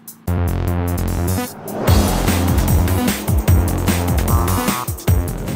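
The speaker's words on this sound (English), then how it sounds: "this diesel V8 is now faster than the original petrol Cayenne turbo" A 2014 Porsche Cayenne diesel V8 accelerates hard, its engine note rising and shifting through gears in a loud, continuous drone close to the microphone, with no talking.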